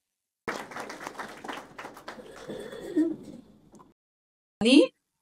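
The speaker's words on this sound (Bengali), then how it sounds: "তার জন্য আরেকবার করতালি দিয়ে কৃতজ্ঞতা জানাই।" An audience at a Friday group meditation gathering gives a short round of clapping that swells and fades over a few seconds, followed by silence and one brief final burst of noise.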